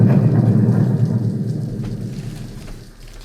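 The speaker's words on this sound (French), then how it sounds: "Et la pluie, elle, en revanche, reste." Heavy rain and thunder, a deep rolling rumble with steady downpour that is loud at first and slowly fades over a few seconds, with no voices.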